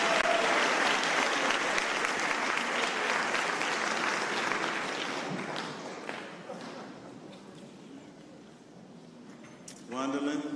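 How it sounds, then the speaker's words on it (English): A large congregation applauds at a funeral service for Juanita Abernathy, dense clapping that starts full, gradually thins and fades, then a speaker's voice comes in near the end. "Please give him a round of applause again."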